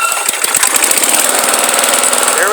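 An old small lawnmower engine runs loud and close in tall grass, a dense, rapid, rattling chatter that holds steady and unbroken throughout, with no talking.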